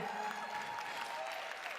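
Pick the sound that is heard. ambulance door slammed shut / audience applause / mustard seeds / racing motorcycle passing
audience applause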